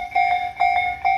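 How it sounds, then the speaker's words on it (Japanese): A railway level crossing bell in Kasukabe, on a crossing of two Tobu lines, rings continuously with sharp, evenly spaced dings, loud and close, with no talk over it. "今踏切ずっと鳴りっぱの状態なんですね"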